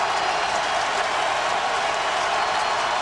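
A football stadium crowd at a 2007 Florida versus Kentucky college game roars in a steady, dense wash of cheering and applause that holds at a constant level throughout, with no distinct voices standing out.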